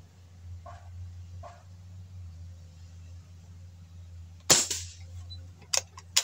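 A single sharp, loud PCP airgun shot, filled to 3,000 PSI, cracks out after a quiet stretch with low hum, followed by a couple of smaller metallic clicks.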